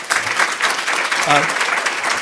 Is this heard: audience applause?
yes